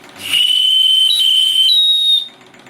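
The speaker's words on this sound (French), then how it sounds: "j'en ai quand même de quoi faire fonctionner le petit sifflet" The small steam whistle on a model steam engine running at low pressure blows high and steady for about two seconds over a soft hiss, its pitch stepping slightly up partway through before it cuts off.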